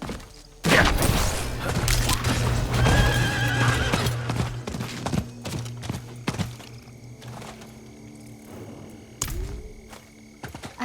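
A horse in the Diablo 4 video game whinnies and its hooves clip-clop up close, with a loud onset, scattered thuds and a second snort or neigh near the end.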